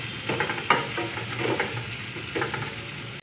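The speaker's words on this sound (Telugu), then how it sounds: "ఉల్లిపాయలు పొడవుగా కోసి 2 పచ్చిమిరపకాయలు కూడా చీల్చి వేసానండి" Sliced onions and slit green chillies fry in a pan for a kaddu kurma, a steady close sizzle with occasional stirring scrapes and clinks throughout.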